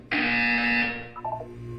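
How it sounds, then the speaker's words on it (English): A loud, harsh electronic buzzer from the video game Portal 2 blares in a single steady tone for almost a second, then cuts to a few brief descending beeps. "You will hear a buzzer."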